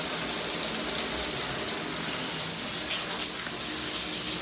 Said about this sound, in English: So I'm just gonna switch on the shower.